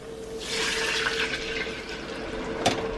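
Hot water being poured into a cast iron pot holding ginger for nikujaga, a steady close splashing and filling rush lasting several seconds with a small clunk near the end.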